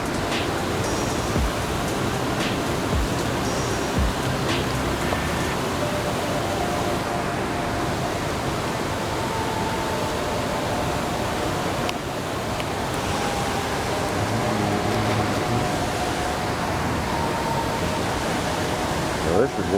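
Water pours over a small dam in a stream where someone is fishing, a loud, constant rushing roar that stays steady throughout.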